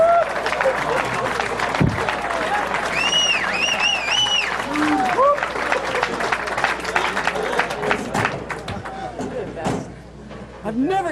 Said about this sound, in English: I've never gotten that much applause for a 0.